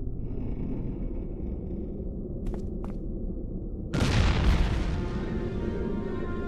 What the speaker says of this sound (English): The explosion came from